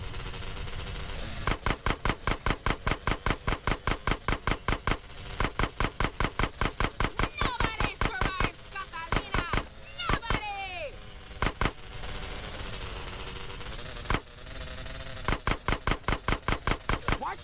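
Gunfire in GTA San Andreas: rapid, loud automatic bursts in long rhythmic volleys with brief pauses, close up, mixed with faint shouting voices.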